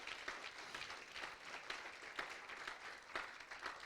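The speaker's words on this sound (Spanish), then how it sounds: "Que dele un aplauso." Church congregation applauding during a Spanish-language sermon, a faint, fairly distant wash of many hands clapping that swells and fades unevenly.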